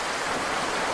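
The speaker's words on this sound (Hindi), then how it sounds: "बहता हुआ पानी" Water flowing in a stream at a scenic outdoor spot, a steady close broadband rush and babble that stays even and unbroken throughout.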